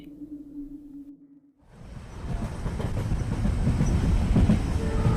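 A train sound effect in a Bengali horror cartoon: after a low hum and a brief pause, rolling wheels and rhythmic clickety-clack build steadily louder as the train rumbles on.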